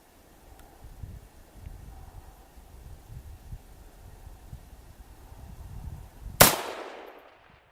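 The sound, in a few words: rifle shot fired at a target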